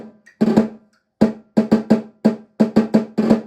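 A snare drum plays a rhythmic etude with buzz rolls: a string of crisp, close strokes, each smeared into a short buzzing press roll, arriving in quick irregular groups with brief pauses between them.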